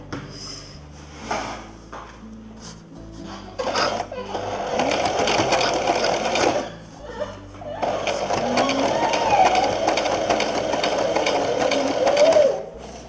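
Domestic sewing machine stitching corset pieces at close range, bursts of rapid mechanical needle clatter starting and stopping with handling noises in between; no talking.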